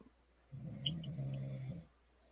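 A dog snores in one low, rumbling breath lasting over a second, close but faint, with a quiet room around it and no talk.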